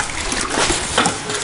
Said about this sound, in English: when you suck up too far, it shoots water out the top